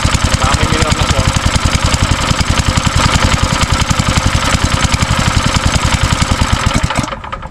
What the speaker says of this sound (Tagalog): Ngayon medyo patag na yung andar niya, tsaka may minor na rin.